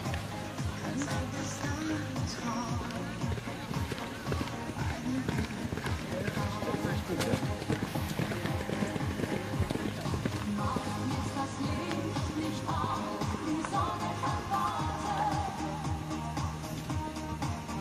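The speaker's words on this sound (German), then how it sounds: "Aus aktiver Hinterhand heraus diese tolle Galoppade bei diesem Pferd zu beobachten" Hooves of a Spanish PRE horse pound in a steady galloping rhythm during an eventing competition over a continuous outdoor din, while a commentator talks throughout.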